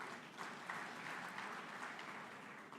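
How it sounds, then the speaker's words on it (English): Steady applause from an audience at an International Day Against Drug Abuse and Illicit Trafficking ceremony, a dense even wash of clapping throughout, somewhat distant and moderately quiet, with no voices over it. "I want to give you a heavy applause for what you have been doing."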